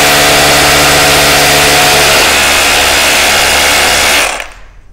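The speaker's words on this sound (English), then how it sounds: "Put my drill onto the hammer setting, because if you're using a rawl plug, you're going into a masonry wall." Hammer drill boring into a brick masonry wall with a loud, steady grinding whir and rattle that runs for about four seconds, then stops abruptly.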